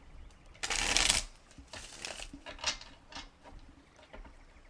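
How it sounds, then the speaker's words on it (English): A Radiant Tarot deck gets a quick, crisp riffle shuffle up close, followed by softer, scattered card patter and taps at low volume. "I would like to get 3 shuffles in here"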